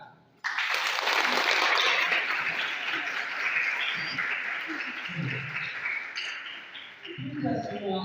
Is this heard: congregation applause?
yes